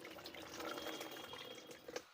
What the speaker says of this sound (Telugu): మిక్స్ చేసుకొని వడగట్టుకుంటున్నాను.